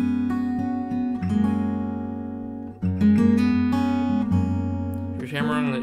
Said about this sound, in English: You're hammering, you're sliding over the same note,